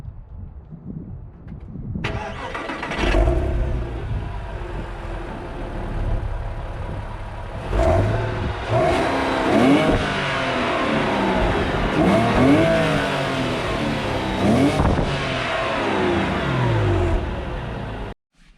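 A Porsche Boxster S flat-six engine cranks to life with a rising roar, then revs up and down in several sharp, loud bursts before settling and cutting off.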